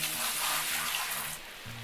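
Water from a bucket poured over a gold-panning sluice in the video game Gold Rush, a continuous close rushing splash that thins out near the end over a low repeating background hum.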